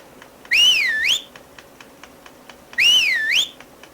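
In the Majora's Mask video game, a clear whistled melody sounds twice, each a rising-and-falling phrase about half a second long, separated by a pause. Faint clicking of buttons or keys ticks quietly underneath.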